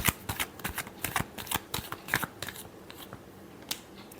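A tarot deck is shuffled up close in quick, papery riffling bursts, the cards slapping and rustling in an uneven rhythm for several seconds.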